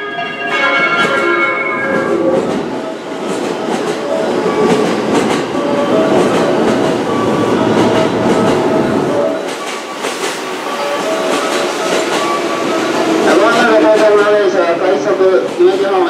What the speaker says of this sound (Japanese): 5番乗り場ご注意ください。電車が入ります。